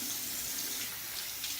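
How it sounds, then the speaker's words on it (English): Tap water running steadily into a bathroom sink, left on to warm up before rinsing during a shave; a soft, continuous hiss at low level with no talking. "I'm going to let the water run a little bit so it heats back up a little"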